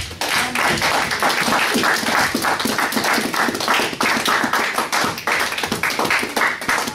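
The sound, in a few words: applause and clapping in church service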